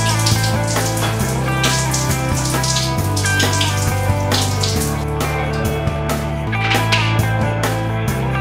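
Tap water runs steadily into an empty shampoo bottle, a continuous close splashing and gurgling whose pitch jumps between levels as the bottle fills.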